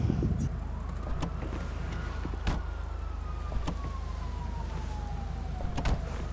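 Police car sirens in a GTA roleplay video game wail with a long, slowly falling tone over a low engine rumble. Several sharp clicks and knocks punctuate the sound.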